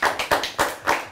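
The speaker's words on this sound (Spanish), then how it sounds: "Un aplauso, por favor, os lo pido" Hands clapping in quick bursts, a short round of applause from a small group, fairly close and lively.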